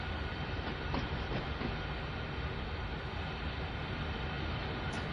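An intermodal freight train in Train Sim World 2 on the Horseshoe Curve rolls past, a steady broad rumble of wheels on rail with faint rhythmic clicks and a brief squeal near the end.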